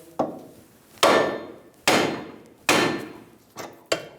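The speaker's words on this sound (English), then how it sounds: "We're going to bonk the side of the knuckle where the tie rod end is sitting in to release the pressure." Hammer blows on the steering knuckle of a 2000-2007 Ford Focus, knocking at the tie rod end seat during front suspension knuckle replacement: five sharp metallic bangs roughly 0.8 seconds apart, close and loud, the last two lighter.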